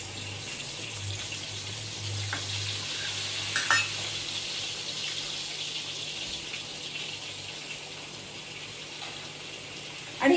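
Butter and ghee melting in a pan on the gas for a dhaba-style rajma curry give off a faint, steady sizzle close by, broken by a couple of light clinks and a short clatter at the end.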